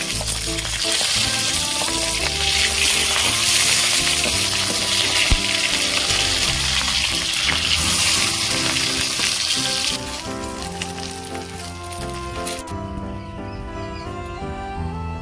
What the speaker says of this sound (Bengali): ফুলকপির পাতুরি আমি সব ভেজে তুলে নিয়েছি